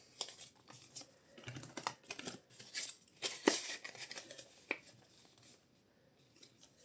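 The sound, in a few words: 20-euro banknote being folded and put into an envelope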